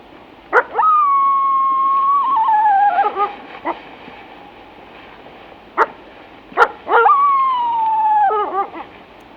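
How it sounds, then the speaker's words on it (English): A female wolf gives bark howls, short sharp barks that rise into long wavering howls which fall at the end, repeated twice and heard close and clear against quiet. "a female wolf uses what's called a bark howl after she was chased and nearly killed by a rival pack"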